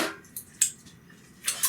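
Whisking a Dijon mustard dressing in a bowl: a few short, bright metallic clinks and scrapes of the whisk against the bowl, spaced irregularly with quiet gaps, close and fairly soft, with no talking.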